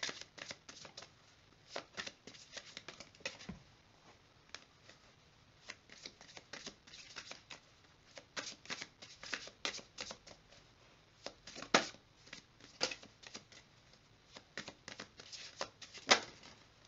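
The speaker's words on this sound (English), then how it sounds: "I'm going to go ahead and shuffle these cards" Tarot cards are shuffled in repeated soft riffles and flicks, close and quiet, in irregular bursts over a near-silent background.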